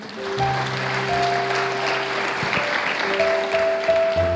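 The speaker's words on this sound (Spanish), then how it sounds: "Denle un aplauso al Señor Jesucristo." An audience at a church service applauds at moderate volume, with steady held keyboard or organ tones sounding underneath the clapping.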